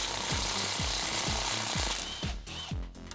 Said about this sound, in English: We're gonna use a 10mm socket and a ratchet or an impact wrench in order to remove that.